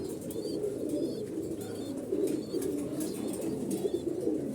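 Continuous soft cooing of Koka pigeons murmurs throughout, joined by occasional faint chirps from other birds nearby.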